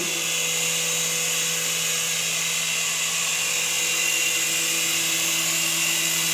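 A small beginner RC helicopter hovering steadily, giving a constant high whine of motor and rotor that stays close and even throughout, with no talking.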